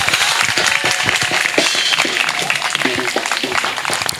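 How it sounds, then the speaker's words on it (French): A church congregation at a Christian holiday service claps and cheers for the Lord, a loud dense burst of applause mixed with voices close by. "Acclamons pour le Seigneur."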